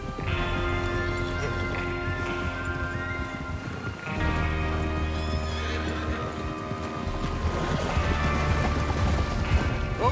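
Horses neigh and their hooves clip-clop in Red Dead Redemption 2 as riders prepare for a train robbery. A whinny comes over steady hoofbeats, with tonal game sounds layered underneath and no talking.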